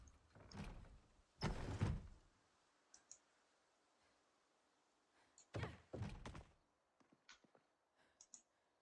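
Wooden door opening inside a house in the zombie survival game Project Zomboid, a few short thunks and clicks in separate bursts, then faint small clicks against a quiet background.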